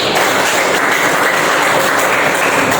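A classroom of students applauds during a civics lesson, a loud, continuous wash of clapping that stays dense and even from start to finish.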